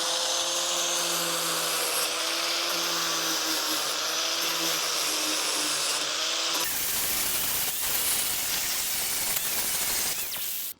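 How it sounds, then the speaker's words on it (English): An angle grinder works down metal bits on a rotten Fiesta RS Turbo bodyshell, giving a steady, loud high whine that shifts to a harsher, noisier grinding tone partway through. "a little quick grind down some bits"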